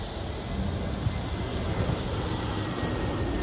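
A plane passes low along the Gatwick Airport flight path as a broad, steady roar that fills the background at moderate loudness with a little wind buffeting on the microphone.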